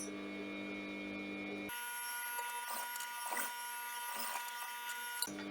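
Sewing machine stitches a welt pocket, a buzzing whirr starting abruptly and running in short bursts with brief pauses, close and steady.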